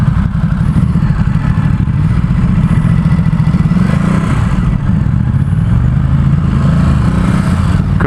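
A 2017 Ducati Supersport S ridden through San Francisco, its engine a loud, close, steady drone with road and wind noise that barely changes from start to finish.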